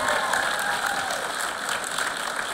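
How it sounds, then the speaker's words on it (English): Audience applause at the McGeorge Unity 2022 graduation ceremony: a dense, steady wash of clapping from a large crowd that fills the whole stretch at even loudness, with a faint high whistle or cheer riding over it. "So give yourself an applause."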